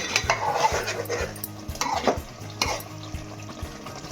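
A spoon stirs green chicken curry in a pan, giving a few scraping, clinking strokes against the metal over a soft simmering sizzle.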